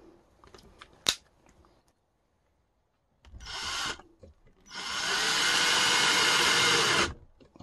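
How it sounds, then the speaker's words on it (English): Small screws are driven into a mains conditioning hub with a power driver, heard as a short whir, a pause, then a longer steady buzz, close and fairly quiet with small clicks and handling sounds between. "Then we're using some very small screws here just to screw it into place."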